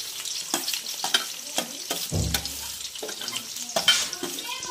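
Onion and curry leaves fry in oil in a home kitchen pan for poha, crackling and sizzling with scraping stirs and a brief low thump, moderately loud and close, with no talking.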